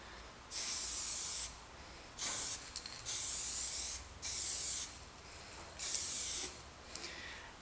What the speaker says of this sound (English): I'm just spraying straight over to the purple